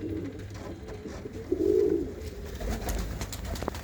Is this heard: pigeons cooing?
yes